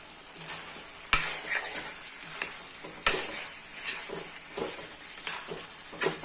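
Whole coriander seeds go into a sizzling chicken curry, giving a busy frying hiss with repeated stirring scrapes and several sharp utensil knocks against the pan, loud and close.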